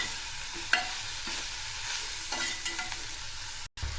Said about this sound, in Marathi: याला सतत असं मिक्स करून घ्यायचं आहे